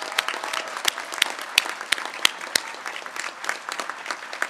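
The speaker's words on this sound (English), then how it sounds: "Let's give a round of applause to our new citizens." Audience applause for newly sworn-in citizens at an outdoor Independence Day naturalization ceremony at Monticello, a steady wash of clapping with several sharp, distinct claps standing out, no voices.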